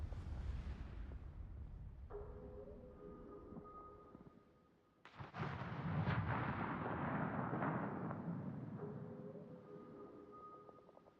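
Torpedo hits in the naval combat game World of Warships boom out as heavy, rumbling explosions, one dense blast fading before a second sharp impact swells into a long roaring wash, with faint tonal game alerts in the background.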